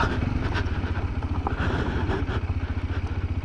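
A TVS Apache RTX 300 motorcycle in rally mode revs hard with its rear wheel spinning, a loud, close, steady, pulsing engine note with a little mechanical clatter and no talk.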